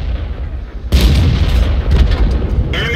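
A loud boom of a tank gun firing in a tank video game, with a T40 US tank destroyer on a cliff, bursts in suddenly after a quieter stretch and rolls on as a sustained rumble with scattered crackling.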